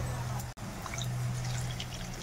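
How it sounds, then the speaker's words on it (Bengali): Water poured from a freshly rinsed blender jar into a pan of rohu fish cooking in poppy seed paste, a steady close pour with a brief cut midway. "এই জার ধুয়েই কিন্তু জলটা আমি দিয়ে দিচ্ছি।"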